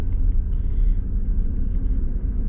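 Low, steady road rumble from inside a 2002 GMC Yukon on the move, a continuous deep drone with no talking.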